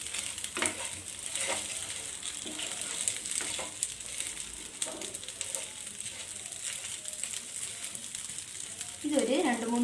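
Kara kozhukatta, cooked rice dumplings, being tossed and mixed in a frying pan, a continuous bright sizzle with repeated spatula scrapes and stirs, close up, with a short burst of voice near the end.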